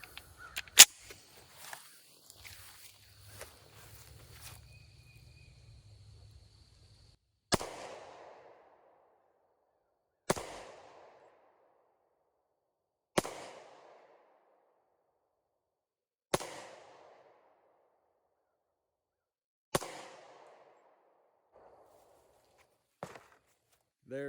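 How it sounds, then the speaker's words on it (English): Five sharp, loud gunshots from a Rock Island 1911 pistol chambered in .45 Super firing Underwood 255-grain hard cast ammunition ring out at even intervals of about three seconds outdoors, each followed by a brief echo, after some early handling noise. "I'm gonna shoot 5 more rounds and see if the slide will lock open just like I did before."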